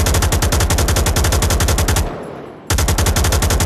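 Automatic gunfire in a VR shooter game bursts out loud and rapid, a steady rattling stream that halts for about half a second before resuming just as hard.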